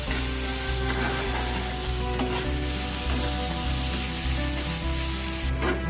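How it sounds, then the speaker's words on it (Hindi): Onions frying to golden brown for bhindi do pyaza, a loud close sizzle with a rhythmic series of spatula strokes scraping and stirring the pan. "प्याज को अच्छे से गोल्डन ब्राउन करके मैं फ्राई कर लूंगी"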